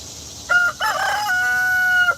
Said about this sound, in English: There's Sienna with a big ass crow